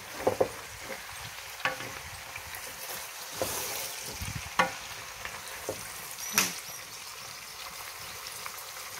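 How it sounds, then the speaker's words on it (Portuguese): Pork fat frying in a pan for homemade lard, a steady sizzle with repeated scraping stir strokes and occasional louder knocks of the utensil against the pan, close up and without speech. "Tá começando a soltar a gordura. Aí o que é mexendo, e mexendo até começa a fritar mesmo."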